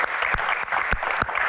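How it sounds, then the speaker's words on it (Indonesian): An audience claps in a short burst of applause, dense and close, with a few distinct hand claps standing out. "Tepuk tangan dulu dong."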